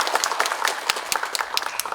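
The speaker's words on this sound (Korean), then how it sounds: "힘찬 박수 부탁드립니다" A short burst of lively applause at a Korean academic presentation, many hands clapping in a fast, dense patter at moderate volume.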